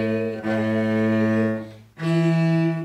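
Solo cello playing the opening two measures of the second line of the fiddle tune Old Joe Clark: two sustained bowed notes, the first held about a second and a half, a short break, then a brighter second note.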